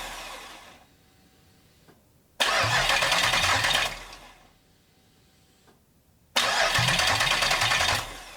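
A Toyota Celica GT-SS cranks and catches twice, each start bursting into a loud, close roar that fades back down between attempts, with no talk.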